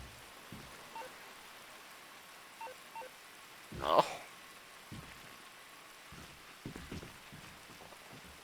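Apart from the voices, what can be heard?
rain falling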